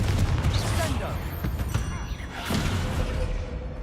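A Confringo fire spell cast in the video game Hogwarts Legacy bursts out in loud, dense, crackling blasts amid ongoing combat noise, with a second surge around two and a half seconds in.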